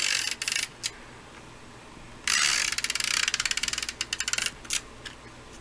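A snail tape runner lays adhesive on the back of a paper card border, giving close, quick clicking ratchet bursts, short at first and then a longer rapid run.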